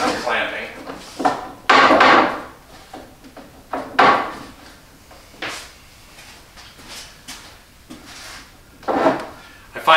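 Wooden boards for a table top glue-up slid and knocked into place on a workbench, a series of irregular wooden scrapes and thumps with quiet gaps between them.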